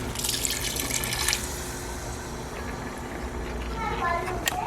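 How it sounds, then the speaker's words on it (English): Plain water is poured from a container into a Trini-style sweet mango chutney mixture, a steady splashing trickle over a constant low kitchen hum. "now I'm going to add a same amount of plain water."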